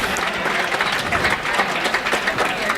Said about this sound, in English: And enthusiastically the crowd appreciate the minute to go.